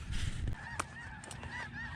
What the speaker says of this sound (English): Oh, look at all the geese.